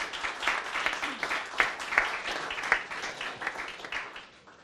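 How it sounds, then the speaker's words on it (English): An audience at a tax policy panel event gives a short round of applause, a dense patter of clapping that swells and then fades out over a few seconds. "Applause for Peter."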